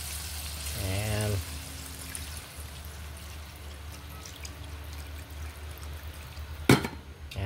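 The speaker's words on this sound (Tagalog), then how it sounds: "pwede na po nating lagyan ng tubig" Water pours into a pot of pork tinola made with pork ribs, a brief near burst of splashing and trickling early on, followed by a steady low simmer hiss and a sharp clatter near the end.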